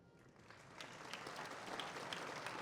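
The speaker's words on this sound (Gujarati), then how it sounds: "એની તાળી પડી." Students applaud, the clapping swelling from scattered hands into a dense, steady burst of applause across a large hall, moderately distant.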